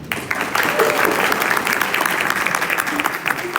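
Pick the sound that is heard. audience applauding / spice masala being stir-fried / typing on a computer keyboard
audience applauding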